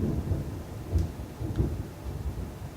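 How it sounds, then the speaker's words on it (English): Deep thunder rumbles in low rolling swells during a storm, a couple of heavier surges over a steady background roar, with no talk. "that is some serious thunder"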